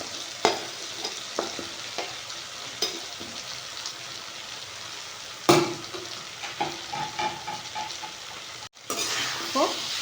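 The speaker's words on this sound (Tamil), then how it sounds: "இப்போது இது கூட கிளறி விட்டுக்கலாம்." Brinjal and drumstick pieces fry with tomato in a pan as a spoon stirs, giving soft steady sizzling broken by several scraping clinks and knocks, plus one louder clatter midway.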